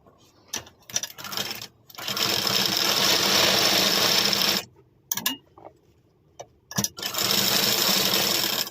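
Electric sewing machine stitching a small piece of cloth, running in loud steady bursts of whirring with short pauses and clicks between runs.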